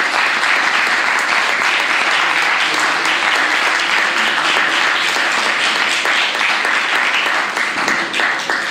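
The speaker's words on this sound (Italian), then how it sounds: "l'applauso che hanno fatto le persone che sono qua stasera" Sustained applause from an audience at an evening talk on vaccines and sport, a dense, steady wash of many hands clapping at even loudness throughout, with no gaps.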